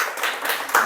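A brief burst of clapping from parents gathered at a kindergarten parent-education session, a short patter of hands that swells near the end.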